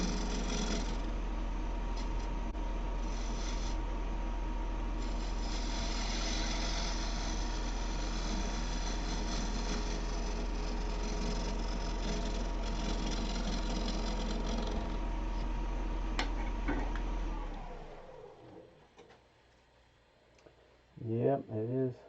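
A scraper cuts wood on a woodturning lathe, squaring up a piece: a steady, continuous whir with scraping and chatter that runs about seventeen seconds, then cuts out, leaving quiet and a few closing knocks.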